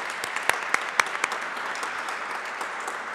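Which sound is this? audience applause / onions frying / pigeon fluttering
audience applause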